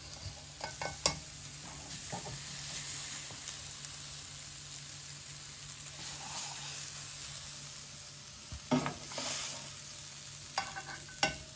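Lamb and vegetables dropped into a hot pot give a soft, low sizzle and stirring noise, with a few sharper clatters and splashes near the start and again toward the end, no voices.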